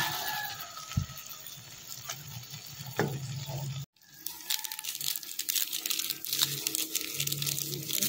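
Food frying in a pan is stirred, giving a soft sizzle with scraping, clinking utensil strokes and a short break before a louder, busier stretch of frying.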